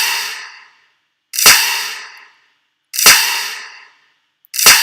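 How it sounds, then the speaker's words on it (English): Three loud snare drum hits from a Lux kit, evenly spaced about every second and a half, each a sharp crack with a long bright reverb tail washing out in between, no other sounds. "Then I added the snare, which is of a Lux kit."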